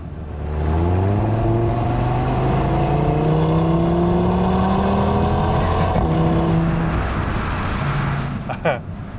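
Engine of a 2020 Audi TT RS accelerating hard, rising harmonic tones climbing through the gears with a brief shift dip, loud and close, over a rumbling road noise, with a short clunk near the end.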